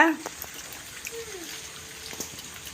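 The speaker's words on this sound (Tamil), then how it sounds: "என்னம்மா வருது மழை காற்று வர அடிக்குதுல்ல" Heavy rain falls steadily with wind, a constant hiss and patter outdoors, while someone talks over it.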